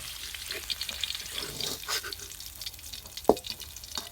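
Chili dip sizzles and fries in oil in a pot while a spoon stirs and scrapes, a steady crackling hiss with a sharp clank of utensil against metal near the end.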